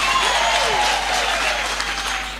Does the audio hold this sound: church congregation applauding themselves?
yes